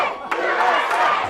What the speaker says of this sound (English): With cameras rolling, posters waving, and people cheering